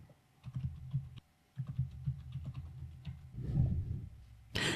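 Keys on a computer keyboard clack in short quick bursts as a passphrase is typed, close and crisp, with brief pauses between groups of strokes and a sharper final keypress at the end.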